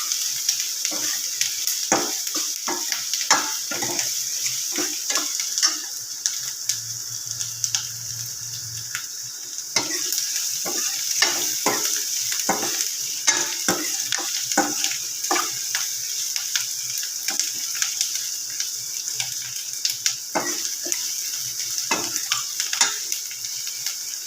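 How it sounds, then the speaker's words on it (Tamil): Onion sizzling steadily in a pan for murungai poo poriyal (drumstick flower stir-fry), with repeated scraping stirs scattered throughout and a faint low hum in the middle. "வெங்காயம் கொஞ்சம் வதங்கணும்."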